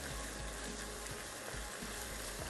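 Seafood karahi masala with chili sauce sizzles steadily in a hot pan, a soft continuous frying hiss with faint low bubbling and no talk.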